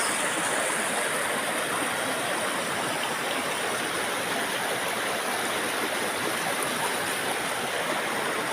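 A clear running stream at a remote swimming spot rushes and gurgles steadily and loudly up close, a constant broadband wash of water with no voices.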